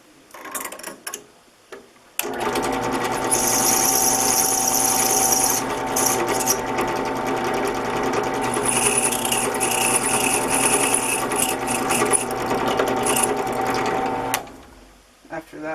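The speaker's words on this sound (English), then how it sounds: "that is as far as I can go with that countersink job there" A small power tool runs continuously at a high, whirring pitch for about twelve seconds while countersinking a hole in a camera mount for an RC drift car, starting and stopping abruptly, with someone speaking before and after.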